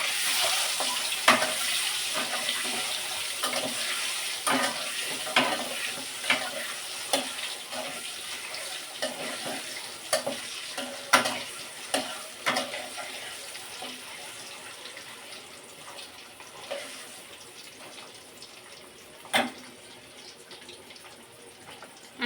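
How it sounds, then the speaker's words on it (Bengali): Eggs frying in hot oil in a pan, seasoned with turmeric, chili and salt, give a steady close sizzle broken by intermittent scraping clicks and taps from stirring, with no talking. "ভাজা করে নিব ডিমগুলা আমি"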